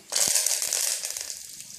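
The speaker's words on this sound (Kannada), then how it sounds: "ಕರಿಬೇವಿನ ಸೊಪ್ಪು ಹಾಕ್ತೀನಿ." Curry leaves hit hot oil in a pan for tempering, giving a sudden loud, close sizzle and crackle that flares up at once and then slowly settles into softer spitting.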